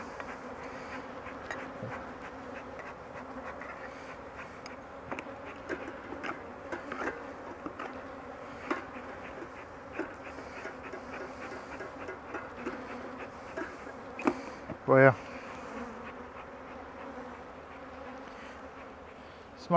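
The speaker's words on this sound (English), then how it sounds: "got my bees here." Steady buzzing of many bees around a hive during honey harvesting, a continuous drone with occasional close passes and a few light knocks.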